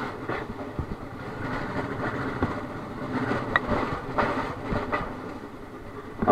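A motorcycle bounces over potholes on a rough off-road track, giving a loud, continuous rumbling rattle with repeated clattering knocks and jolts throughout, and no talking.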